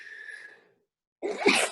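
A single loud sneeze bursts out near the end, following a stretch of a voice and then a pause, during a volleyball coach's interview.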